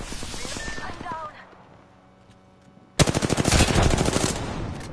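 Rapid automatic gunfire from an Apex Legends match erupts loudly after a quieter stretch, a dense burst of repeated shots, with brief voice chatter heard earlier.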